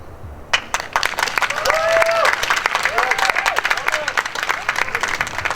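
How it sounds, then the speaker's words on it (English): Applause from the audience at a Grade 8 graduation ceremony, loud, sustained clapping from many hands filling the room, with a voice speaking over it. "Can we please give them another round of applause?"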